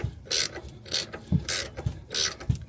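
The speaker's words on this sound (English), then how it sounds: "They are 18 millimeter. You're gonna need a ratcheting wrench for that." A ratcheting wrench clicks through four quick bursts of pawl clatter with short pauses between, loosening 18 mm upper strut bolts during a Rough Country 3.5 inch lift install on a 2016 Chevrolet Silverado.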